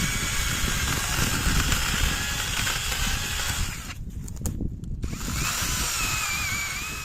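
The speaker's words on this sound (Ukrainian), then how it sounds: "Ось така нехитра електрична пила." Battery-powered electric chainsaw with a 4 Ah pack cutting into a dry, leaning tree outdoors in cold winter, a steady close motor whine running throughout with a brief dip as the chain bites the wood.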